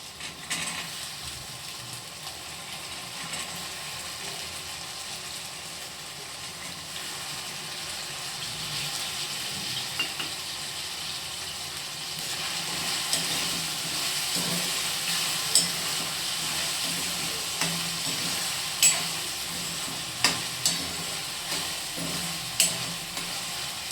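Green peas tipped into a hot pan of oil, a steady soft sizzle and frying hiss running throughout with a few faint clicks and stirring taps later on.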